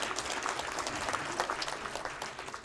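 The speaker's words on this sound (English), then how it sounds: "A big round of applause, ladies and gentlemen." An audience at a conference event applauds steadily for a few seconds, a dense patter of many hands clapping with no voices on top.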